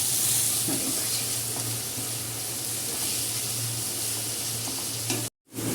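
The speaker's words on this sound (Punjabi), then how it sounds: "ਇੱਧਰ ਆਪਣੇ ਕਰੇਲੇ ਵੀ ਫਰਾਈ ਹੋ ਜਾਣਗੇ" Bitter gourd slices frying in a pan of hot oil give a steady, close sizzle throughout, cut by a brief silent break near the end.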